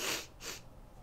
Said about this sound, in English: Sorry for all the sniffling, you guys.